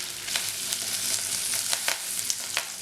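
Onion and turmeric sizzle in hot oil for a shark curry, a steady close frying hiss broken by several scraping stirs of a spoon; no voices.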